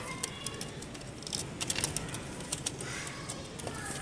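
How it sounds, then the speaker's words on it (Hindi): Soft coos of a breeding pair of pigeons and shuffling near a loft, with scattered sharp metallic clinks and light flutters over a steady low background. "ये पहले हमारा उड़ान वाला कबूतर था,"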